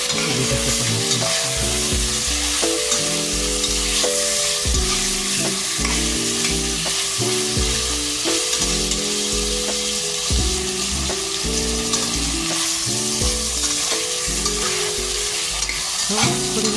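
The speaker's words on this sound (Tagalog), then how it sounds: "ilagay na po natin ang ating chicken na naman. Igisa po natin siya." Chicken is sautéed in a pan, with a continuous loud sizzle and rhythmic stirring and scraping strokes of a utensil against the pan throughout.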